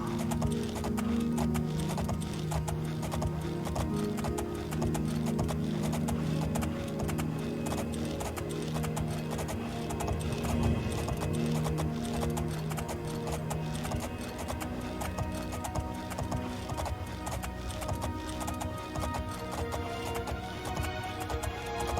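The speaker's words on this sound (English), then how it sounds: "Might as well ride my horse to it." Horse hooves clip-clop in a steady, rhythmic gait while riding in the Oblivion video game, loud and continuous over a sustained musical drone, with no talking.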